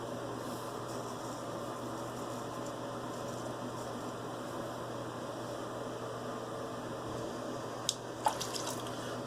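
Steady water running from a tap, a constant hiss and splash with a couple of brief clicks near the end.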